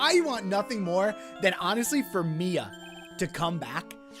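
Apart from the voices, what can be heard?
phone ringtone ringing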